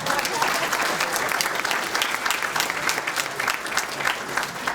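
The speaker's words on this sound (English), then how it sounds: "Honor students, let's give them a round of applause." A crowd applauds honor students at a recognition ceremony, thick continuous clapping from many people that fills the space evenly from start to finish.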